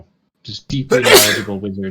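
A person lets out a single loud, sharp sneeze close by, following a brief burst of speech from another voice.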